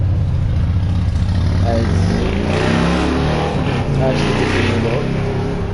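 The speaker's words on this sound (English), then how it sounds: "loud ass motorcycle fucking up my fucking life" A loud motor engine roars past close by, revving and swelling before easing off slightly, with a voice faintly underneath.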